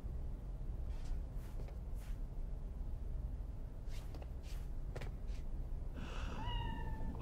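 A cat meows in the video game Cyberpunk 2077: Phantom Liberty, giving several short, faint meows over a steady ambient game background, followed by a longer, clearer meow near the end.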